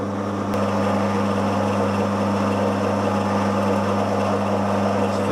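An old pillar drill drilling alloy plate gives a steady motor drone with a constant low hum throughout, with one sharp click near the start and no voices.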